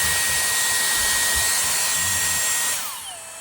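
A Dyson Airstrait hair straightener blows air in a loud, steady whoosh with a thin whine on top, then winds down toward the end as the motor pitch drops.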